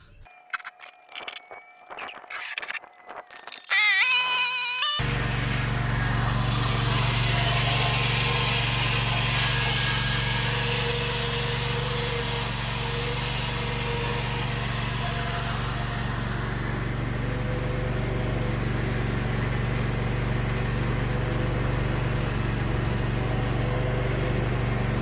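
A John Deere 100 series lawn tractor engine runs steadily on a driveway test ride, a loud continuous droning hum after a few seconds of clicks and brief starting noises.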